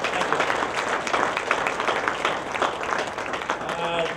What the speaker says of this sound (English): Let's give the panel another round of applause for the effort